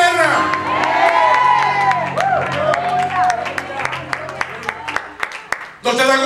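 A church congregation shouts, whoops and cheers loudly and continuously, with claps and scattered cries rising above a dense crowd roar that cuts off abruptly near the end.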